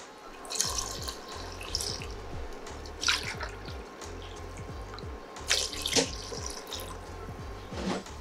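Water runs steadily from a tap into a pot of coconut milk for paneer pulao, with occasional splashes and drips, close by and with no voices.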